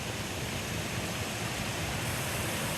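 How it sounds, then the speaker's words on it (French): Nideck waterfall in the Vosges forest, heard from the top of the falls: a steady, dense roar of rushing water that stays constant and fairly loud throughout, with no voices. "Là, il y a la cascade du Nidec, donc là, on est en haut."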